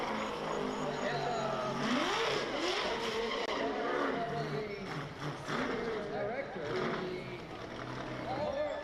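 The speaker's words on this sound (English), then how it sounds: "As you see Jeremy Mayfield doing burnouts" A stock car does burnouts on championship night at a stock car race, with tires squealing and the engine revving in rising and falling surges while a voice talks over it.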